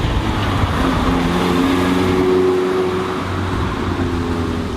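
A 2016 Mazda MX-5 Cup race car engine on track holds a steady, loud drone throughout, with a rough low rumble and a faint rising tonal whine in the middle.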